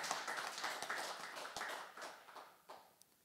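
Congregation clapping during a Sunday church worship service, scattered claps with sharp individual hits that thin out toward the end, moderately faint.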